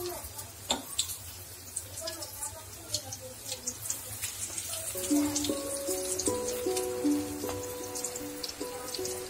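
Whole green chillies dropped one by one into deep hot oil for street-style mirchi bajji, giving a soft crackling sizzle with small pops, fairly quiet and steady, with background tones and no talking.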